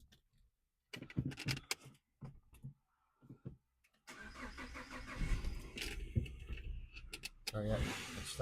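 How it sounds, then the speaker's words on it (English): A car engine cranks and catches, then settles into a steady idle, preceded by a few clicks and brief handling sounds. "Let's start the car."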